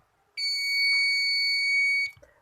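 A homemade electric bell built on MDF board gives one loud, steady buzzing ring for just under two seconds, then cuts off with a small clunk.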